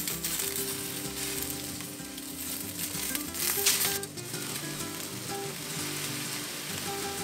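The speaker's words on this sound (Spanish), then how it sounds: "En un comal caliente asamos 4 jitomates y un chile serrano." Four tomatoes and a serrano chile roast on a hot comal, giving off a steady broadband sizzle and crackle with a brief louder burst midway, continuous and close with no talking.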